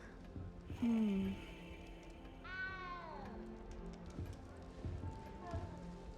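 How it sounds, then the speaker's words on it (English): A cat meows in the Hogwarts Legacy video game, a couple of clear close cries with a longer wavering one, set over game ambience and character voices. "good luck finding that cat"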